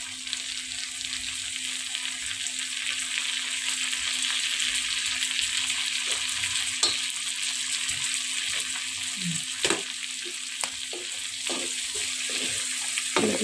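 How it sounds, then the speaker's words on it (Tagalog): Chicken, already fried and seasoned with salt and pepper, sizzles steadily in a pan with sautéed onion, garlic and bell pepper, a continuous close frying hiss with occasional soft stirring clinks and taps. "ginisa ko na yung sibuyas, bawang at bell pepper. Ito na yung na-prito ko kaninang manok."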